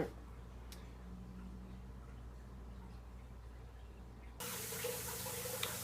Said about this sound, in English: Alright, we're filling the tank back up